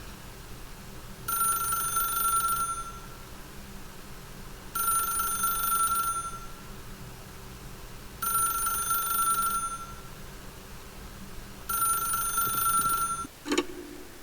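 A telephone rings in four evenly spaced bursts, each about a second and a half with short gaps between, in the video game The Stanley Parable, followed by a brief click as the receiver is picked up.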